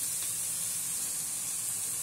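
Onion and garlic frying hard over a high flame, giving a steady, even sizzle and hiss that carries through the whole stretch with no voices.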